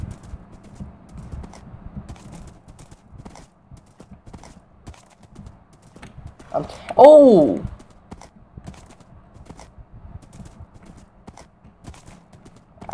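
Horse hooves clip-clopping steadily in a Minecraft game, faint and rhythmic, with a sudden loud horse whinny midway and a person's exclamation breaking in over it.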